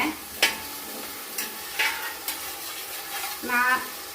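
Ada being stirred in ghee for ada pradhaman: a close, continuous frying sizzle broken by several distinct scrapes and clinks of a spoon against the pan, with no talk.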